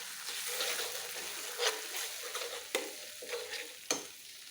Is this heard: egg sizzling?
yes